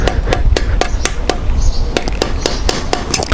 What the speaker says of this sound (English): I've got a rubber mallet, and I'm just going to use the nut end just to give it a little bit of a